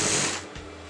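A sewing machine stitches stretchy crepe fabric for a Patiala salwar, a short close whirring run that fades after about half a second.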